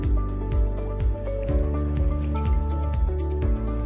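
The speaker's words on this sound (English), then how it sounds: "put some water into the plate. Pour a little water." Water is poured into a plate for a rainbow experiment, giving a close series of regular drips and glugs roughly every half second over a steady liquid sound.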